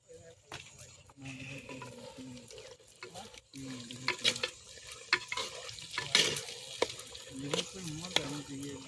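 Chicken being sautéed in a pan for chicken curry at an outdoor gathering, a quiet sizzle under intermittent scraping and stirring strokes, with soft voices talking in the background.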